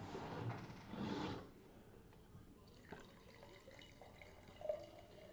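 Unfiltered McIntosh apple cider is poured into a glass, a soft liquid splash up close that rises briefly and then settles into faint fizzing and dripping.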